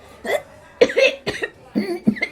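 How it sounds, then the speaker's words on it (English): A few short, throaty coughs and hacking sounds come in quick succession, close and fairly loud. "Cough it up, love. Cough it up, chicken."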